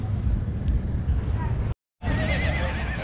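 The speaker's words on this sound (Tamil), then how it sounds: "குதிரை, குதிரைகளை பார்த்தாவே மிரண்டு ஓடுது." A horse at the Athi Kombai livestock market neighs loudly over wind noise and crowd murmur; after a brief dropout, a long, wavering whinny rings out up close.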